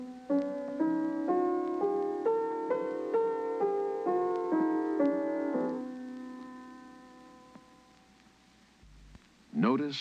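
Whole tone scale played on a keyboard-like instrument, a steady run of evenly spaced notes climbing then descending over about six seconds, then a sustained ringing tail fading out, with a brief noise at the end.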